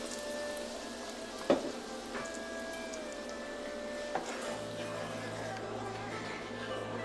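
A blended egg and sugar mixture hits hot ghee with a continuous bright sizzle, a couple of sharp clinks from a spoon or pan, and a low hum joining in toward the end, all close.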